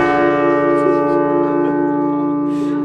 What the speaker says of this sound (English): That was the bell that I just talked about.